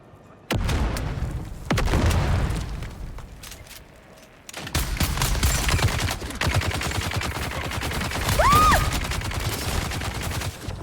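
A grenade blast and gunfire in the video game Dune, with heavy booms and rapid rattling shots in loud bursts separated by brief lulls, a rising whistle near the end.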